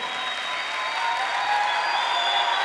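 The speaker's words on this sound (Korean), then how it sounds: "박수 소리가 더 약해지면 어떻게 해요?" A church congregation at a winter camp worship service applauds together, a steady, full wash of clapping heard close and loud throughout, without any talk over it.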